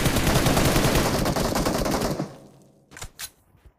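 Rapid, loud automatic gunfire from a battle royale video game rattles continuously for about two seconds, then breaks off into a few sharper separate shots and short bursts.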